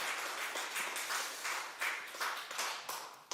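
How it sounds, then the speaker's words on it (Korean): A church congregation claps together in a steady, fairly faint round of applause, with uneven surges of hands across the room. "우리 8구역 힘내시라고 다시 한번 박수하겠습니다."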